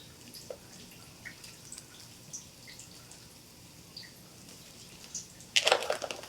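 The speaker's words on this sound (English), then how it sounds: "you definitely want to make sure you wring out any of that extra water" Water drips in scattered small drops from squeezed eggplant slices, faint and irregular, ending in a louder splashing trickle.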